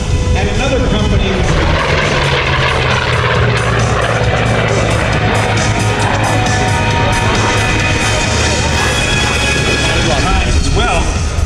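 A vintage Brewster-built propeller fighter plane flies at an air show, its engine droning loudly and steadily throughout, a rough continuous roar with someone talking over it.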